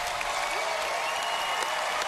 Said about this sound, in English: everyone is still standing and cheering for that amazing performance